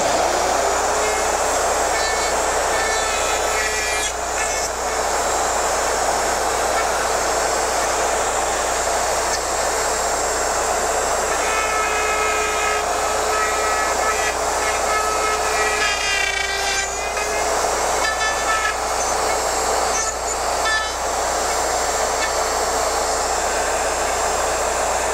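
Loud continuous whine of a router cutting dovetail pins and tails on a Porter Cable Omnijig jig, a steady high-speed motor drone with shifting cutting tones as the bit moves through wood, close by with no talk.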